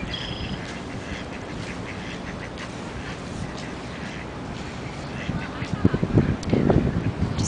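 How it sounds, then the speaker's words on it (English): Ducks quack in a flooded parking lot during the 2008 Iowa City flood, a few brief calls scattered over steady wind noise and outdoor rumble, with louder bumps and handling noise near the end. "We have ducks swimming in our parking lots and streets"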